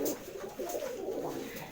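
Newly bought pigeons in a home collection coo softly, with a few rolling calls rising and falling close by and quietly, alone.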